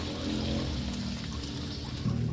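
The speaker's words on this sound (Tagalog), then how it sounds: "Maglagay lang tayo ng konting tubig." A little water is poured into a pan of fish escabeche with carrots and tomato cooking, giving a soft, quiet trickle with faint kitchen background.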